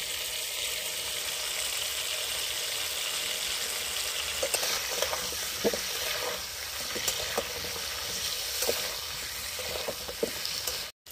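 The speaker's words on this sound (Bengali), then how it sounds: "আলুগুলো ভাজা হয়ে গেছে" Potatoes seasoned with salt, turmeric and Kashmiri chili powder fry in oil for Kolkata-style biryani, giving a steady, close sizzle with a few light stirring clicks throughout, and no voices.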